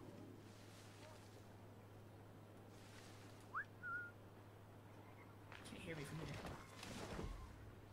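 A short whistle in the video game Assassin's Creed Rogue: one brief two-note call, rising then held, over soft game ambience, with a player talking around it.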